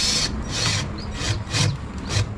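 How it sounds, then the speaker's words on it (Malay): A screwdriver twisting a screw into a wooden window blind hook, giving a series of short scraping rasps in an uneven rhythm, close and fairly loud. "Untuk pusingkan skru kat dalam."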